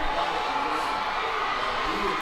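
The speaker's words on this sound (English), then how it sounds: "Hazen crowd starting to get it back into it" High school football crowd at a state final game, a dense steady roar of cheering and shouting filling the stands, loud and continuous throughout.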